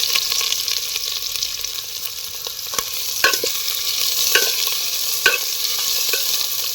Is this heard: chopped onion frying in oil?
yes